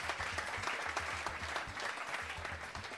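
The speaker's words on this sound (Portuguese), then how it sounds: "Quero pedir uma salva de palmas." A crowd applauds steadily during a trophy presentation, dense clapping continuing loud and unbroken with faint voices underneath.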